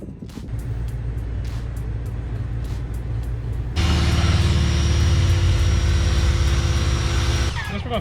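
A 1991 Toyota Corolla engine running, a steady idle that jumps louder midway into a stronger revving drone, then drops back near the end.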